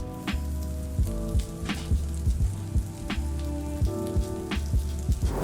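Garlic sizzling in a little hot oil in a pan for a pork topping, a steady crackling hiss with repeated spattering pops and occasional louder bursts throughout, close and fairly loud with no talking.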